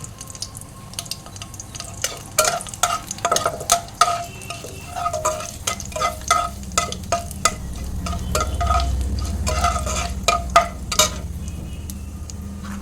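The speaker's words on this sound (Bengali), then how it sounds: "কড়াইয়ে শুকনো লঙ্কা, তেজপাতা আর ফোড়নে জিরে আর মেথি দিয়ে দেব" Dried red chilli, bay leaf, cumin and fenugreek spluttering in hot oil in a kadai, sharp irregular pops and crackles over a low sizzle, with stirring knocks near the pan.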